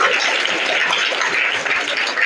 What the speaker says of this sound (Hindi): इनके लिए ताली हो जाए।